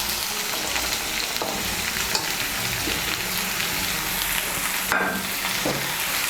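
Chopped eggplant and pumpkin frying in hot oil in a pan, a steady loud sizzle with occasional scrapes and clinks from stirring, close up and without speech.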